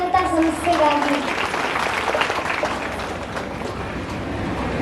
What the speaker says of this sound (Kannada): ನಾವೆಲ್ಲರೂ ಸೇರಿ ಮತ್ತೊಮ್ಮೆ ಜೋರಾಗಿ ಒಂದ್ಸಲ ಚಪ್ಪಾಳೆ ಕೊಡ್ಬೋದಾ ಜನತಾ ಸಂಸ್ಥೆಗಾಗಿ?